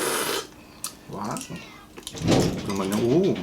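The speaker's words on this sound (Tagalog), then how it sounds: "pusa po namin yon, kumakatok na." Pet cat meowing several times, with rising and falling wavering cries, close by and fairly loud, interleaved with people talking during a mukbang of balut, mango and santol.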